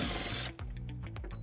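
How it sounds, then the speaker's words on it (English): Ratcheting clicks of a 10 millimeter socket wrench backing out the taillight screws on a 2003 Infiniti QX4, a rapid close mechanical rattle that pauses briefly midway and then resumes. "we're going to remove it using a 10 millimeter socket"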